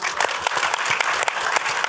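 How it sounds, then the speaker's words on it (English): A room of attendees at a lawn care industry gathering applauds; dense, steady clapping fills the whole moment, close and loud. "So, round of applause to Equip."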